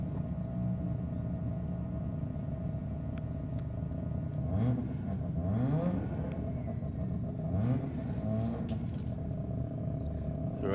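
Drag racing cars, including a blue Datsun Ute, rev and rumble at the start line at Sydney Dragway, engine tones climbing in repeated bursts under a steady crowd-and-track din.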